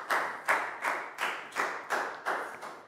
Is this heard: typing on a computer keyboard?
no